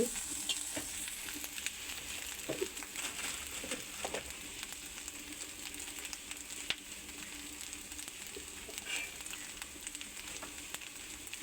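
Quiet, steady frying as a spring roll filling with egg and cumin is stirred in a pan, with faint scrapes and taps over a continuous low sizzle and no talking.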